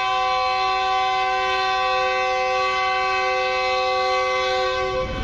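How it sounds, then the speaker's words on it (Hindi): A loud, sustained horn from a departing Islamabad Express passenger train holds one steady blast for about five seconds, with no talk over it. "बड़ा जबरदस्त सा इनिशियल हॉर्न हो गया।"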